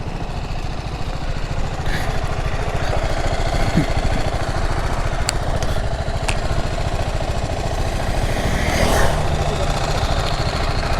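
Several motorcycles idle together as bikers line up in formation before a long group ride, a steady low engine rumble running throughout with occasional faint voices in the background.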